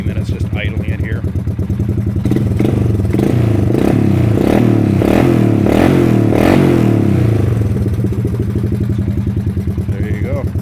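A Honda 185S motorcycle fitted with a used cylinder and a 200 cc Chinese 12:1 piston idles and revs up steadily, its loud, rattly mechanical clatter building then easing off.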